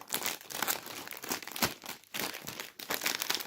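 A crinkly plastic bag of tomato-flavoured Lulu Puffs snacks being torn open and handled, giving loud, close, continuous crackling and crumpling in repeated bursts with no talking.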